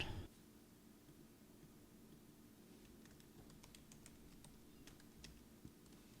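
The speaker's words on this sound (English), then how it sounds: "Let's start typing." Quiet, quick keyboard typing with irregular clicks bunched in short bursts, close and soft, over faint steady background hiss.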